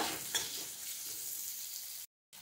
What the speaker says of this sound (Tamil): இப்போ நல்லா இதை ரோஸ்ட் பண்ணிக்கோங்க